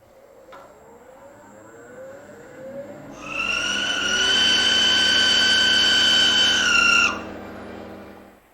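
Wood lathe chatter tool cutting a decorative pattern with the cutter head extended to about 1 3/8 inches: a loud, steady high-pitched tonal whine with strong harmonics sets in after a quieter spin-up and holds for about four seconds before stopping abruptly.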